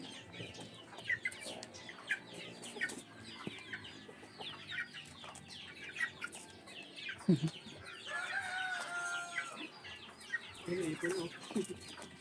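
Chicks and chickens cluck and peep together in a pen, a busy continuous chorus of close and overlapping calls with a few louder squawks now and then.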